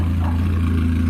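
A VW Saveiro pickup's engine drones with a low, steady, close hum that rises slightly, lasting about a second with no speech.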